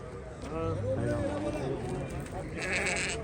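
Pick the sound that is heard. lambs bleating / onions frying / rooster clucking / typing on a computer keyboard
lambs bleating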